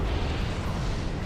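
A loud, sustained explosion rumble in the Dark Souls video game, dense and continuous for over a second with no pause, heavy in low end.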